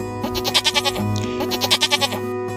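A goat bleats several times in quick wavering calls over a steady musical backing, fairly close and clear.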